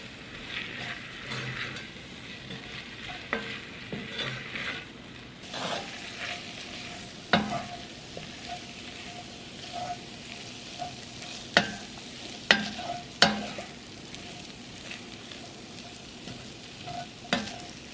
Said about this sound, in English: Of the red Thai curry paste, and we're just going to let that for a couple of minutes cook through the ginger, the garlic and those onions.